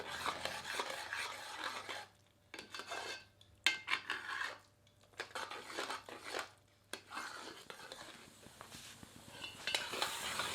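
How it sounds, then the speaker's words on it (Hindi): A ladle scrapes and stirs carrot halwa with nuts in a pan over high heat, a soft, close rasping in uneven strokes with short pauses between them. "अब इसे हम 5 मिनट तक तीव्र आंच पर भूनेंगे और निरंतर कड़छी चलाते रहेंगे।"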